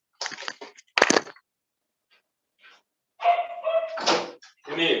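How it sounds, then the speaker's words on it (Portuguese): A dog barks indoors in short, close, loud bursts, one sharp bark early and a cluster of barks near the end, with faint breathing or rustling in between and no talk over it. "deixa eu pedir para a cachorro parar de latir aqui"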